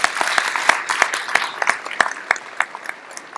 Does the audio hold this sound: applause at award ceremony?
yes